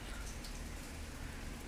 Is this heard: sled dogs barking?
no